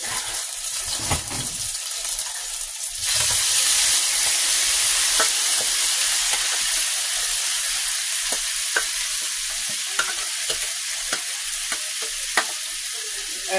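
Potatoes fry in a pan, giving a steady hiss that grows louder partway through, with scattered pops and crackles throughout and no voices.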